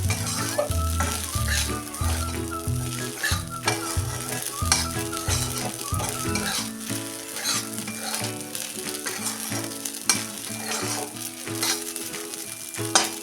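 Sago pearls (sabudana) sautéing in a pan with cloves for khichdi, a steady sizzle with frequent scraping stir strokes and soft clinks, continuous and close, over faint background music.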